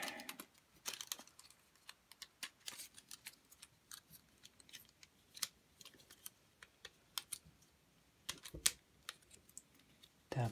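Plastic parts of a toy robot figure tapped and clicked into place, a scattered series of small, close, quiet taps and clicks over about ten seconds.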